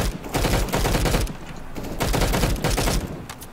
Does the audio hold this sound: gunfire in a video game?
yes